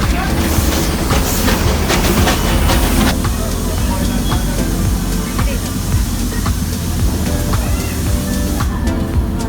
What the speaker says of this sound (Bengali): বাইরে থেকেই দেখে নিলাম প্রাচীন রেল, যা 1880 সালে নির্মাণ করা হয়।